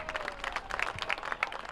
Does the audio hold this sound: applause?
yes